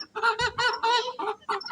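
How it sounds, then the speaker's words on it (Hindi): Chickens cluck in a quick series of calls as their coop is opened, close and fairly loud, with short pauses between bursts. "पहले मुर्गियों को खोल देते हैं।"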